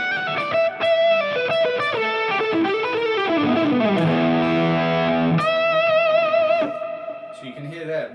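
Electric guitar run through a Line 6 Helix with added distortion for a lead tone, playing a continuous, sustained melodic line with bends and slides, loud and close, alone without talk.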